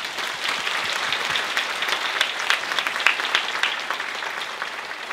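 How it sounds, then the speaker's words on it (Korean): An audience at a soprano recital applauds the Seoul Orchestra and its conductor after the Marriage of Figaro overture, with sustained, fairly loud, crisp clapping from many hands and individual claps popping out. "서울 오케스트라와 권주영 지휘자님께 뜨거운 박수 부탁드리겠습니다"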